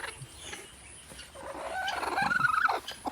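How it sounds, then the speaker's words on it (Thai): Chickens of mixed breeds in a farm coop give a short run of warbling clucks and calls that swell in the second half, fairly close, with no voices. "เล้ารวมที่ไก่ ต่างๆ สายพันธุ์นะครับ"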